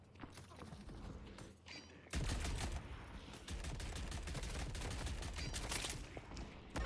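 Gunfire in the video game Deadlock, with dense rapid shots and impacts that burst in loudly partway through and continue as sustained crackling bursts.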